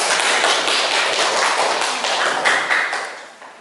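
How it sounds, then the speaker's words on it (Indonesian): Classroom applause for a group representative, a dense spread of clapping hands that holds steady for a few seconds and then fades toward the end. "beri tepuk tangan untuk perwakilan dari kelompok 2"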